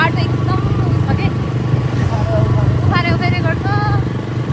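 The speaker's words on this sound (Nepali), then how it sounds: "बाइकले धेरै उफारिरहेको छ क्या।" A motorcycle ridden over a rough, bumpy road in Nepal, its engine droning steadily and loudly throughout with rattles from the jolting, and a voice talking over it.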